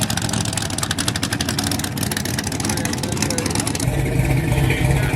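A cammed Ford Mustang GT engine runs loud and close, with a choppy, lumpy idle pulsing under the talk and growing deeper and steadier toward the end.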